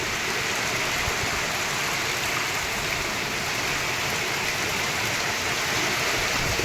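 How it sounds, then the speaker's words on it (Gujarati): Heavy rain pours steadily in a wind-driven storm over a village, a dense, loud, unbroken wash of falling water with no voices. "અત્યારે ભારે પવન સાથે ભારે વરસાદ ચાલુ થઈ ગયો છે"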